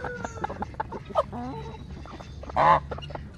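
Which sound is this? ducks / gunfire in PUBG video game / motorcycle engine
ducks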